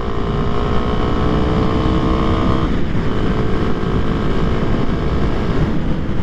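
A 2023 Kawasaki KLX300SM supermoto's engine cruises steadily in the mid-range, a loud continuous drone with a slight pitch shift near the three-second mark and no talk over it.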